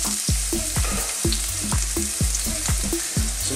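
Onions fry in a touch of corn oil in a pan, with a loud, close, steady sizzle carrying a regular pulsing rhythm of repeated bursts, several per second, with no voices.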